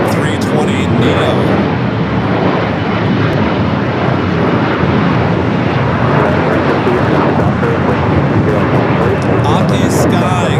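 Airbus A320neo jet arriving from Phoenix at LAX, a loud, steady broadband engine roar filling the whole span, close and continuous, with people talking underneath.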